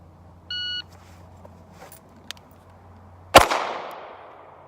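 A shot timer gives a short electronic beep, and a few seconds later a Kimber Micro 9 pistol is drawn from a pocket holster and fires a single sharp, loud shot with a ringing decay.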